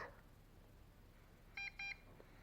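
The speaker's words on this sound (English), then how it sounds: "and it beeps" Two short, bright electronic beeps in quick succession from an MJX Bugs 2C (B2C) GPS camera drone connecting to its remote, over a faint steady hiss, with no voices.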